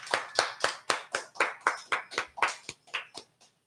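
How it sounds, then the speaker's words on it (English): A few hands clap close up in a radio studio, about a dozen distinct claps in an irregular rhythm that thin out and stop after a few seconds. "Thank you for applauding"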